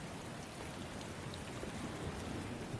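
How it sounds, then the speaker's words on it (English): Heavy rain pours down in The Hundred Line: Last Defense Academy, a dense, even hiss of falling water heard alone at a soft, steady level throughout. "He melted away into the sound of the rain pouring down."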